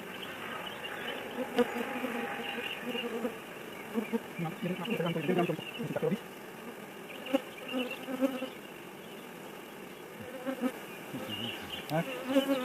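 Honeybees swarm around opened beehive frames holding brood, making a dense, continuous close-up buzz that rises and falls, broken by occasional handling knocks and a quiet voice.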